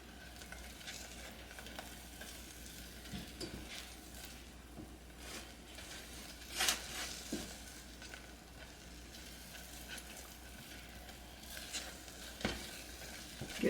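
A thick joint compound paper mache clay mixture boiling in a pot makes quiet, irregular soft pops and bubbling with occasional faint stirring noises, all fairly low and close.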